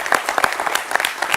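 A studio audience breaks into brisk, loud applause welcoming guest journalist Rashid Kidwai during a televised Madhya Pradesh 2023 election opinion poll discussion; the clapping is dense and continuous throughout.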